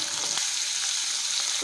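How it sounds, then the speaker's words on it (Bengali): Fish pieces fry crisp in mustard oil in a wok, making a brief, steady, close hiss of sizzling with no voices. "মাছগুলোকে আমরা কড়া কড়া করে ভেজে তুলে নেওয়া নিয়ে নিচ্ছি"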